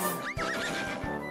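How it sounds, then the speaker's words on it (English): A toy plays a short horse neigh sound effect, a single wavering whinny of about a second with a soft hoof clop underneath. "Horse."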